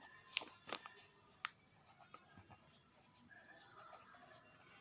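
Chalk or marker scratches onto a board during a maths lesson in a few quick strokes and taps, faint and close, with near silence between them.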